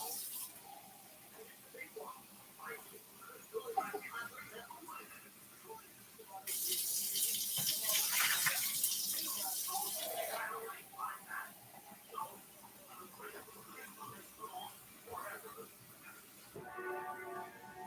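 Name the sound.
water running from a tap into a container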